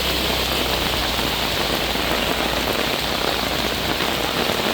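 Heavy monsoon rain pouring down in Belthangady taluk, Dakshina Kannada, a loud, dense, unbroken hiss of rainfall close by with no voices.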